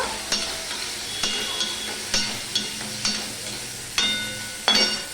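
Watery ground ginger paste fries in a pan for a vegetarian dish without onion or garlic, a soft sizzle broken by about six distinct spoon scrapes and stirs at roughly one-second intervals, with no talking.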